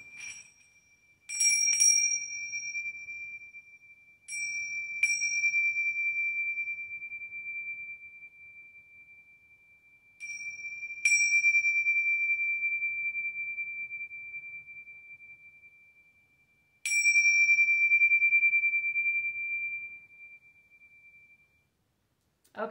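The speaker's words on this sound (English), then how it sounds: "we're going to use the Tibetan chimes." Tibetan chimes struck four times at the close of a Reiki healing session, each clear, sustained ring decaying slowly into near silence before the next, alone and fairly close.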